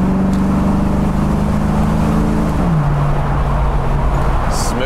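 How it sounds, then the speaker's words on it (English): A 1991 Ford Mustang GT convertible with a 5-liter engine drones loudly and steadily from inside while driving, its low engine note holding and then dropping in pitch as it shifts, over road and wind noise. "Listen to this thing, 5-liter baby."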